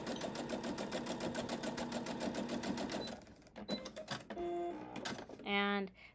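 A sewing machine stitches a fabric seam on a wonky cut star quilt block, a fast even whirring for about three seconds before it stops and a person talks over a few small clicks.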